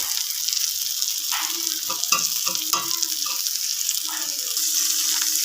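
Whisked yogurt goes into a hot pan and sets off a loud, continuous bright sizzle that stays strong throughout, with a few soft clinks and stirring touches close by and no talking.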